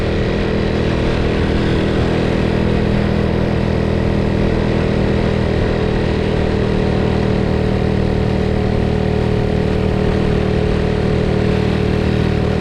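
A Honda Innova 125 motorcycle engine drones steadily and loudly while riding, with a constant close-up hum and wind rush and no clear breaks.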